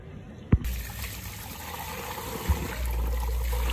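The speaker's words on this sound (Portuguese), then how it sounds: "Água nova entrando, passa lá no sistema, sai água suja." Dirty water runs and trickles steadily out of a car's very dirty cooling system as it is flushed through with fresh water, with a couple of brief knocks and no talking.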